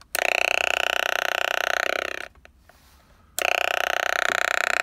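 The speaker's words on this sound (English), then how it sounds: "this is an Atari Punk console built into an old CB handset" An Atari Punk console synth built into an old CB handset drones with a buzzy, harsh pulsing tone, cut off briefly by the trigger into a low hiss before resuming loudly near the close.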